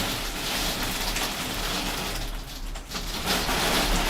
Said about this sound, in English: It is like proper heavy raining right now.